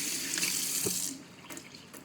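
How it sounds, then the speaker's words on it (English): Tap water runs into a sink while soapy hands are rinsed beneath it, a close steady splashing flow that drops off partway through, leaving softer drips and trickles. "And then rinse all the soap off."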